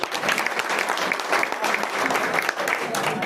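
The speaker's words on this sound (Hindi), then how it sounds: "जोरदार ताली हो रहा है बच्चे के" Loud, steady applause from an audience at a carrom club tournament prize distribution, cheering a child on stage; dense clapping fills the whole stretch with faint voices mixed in.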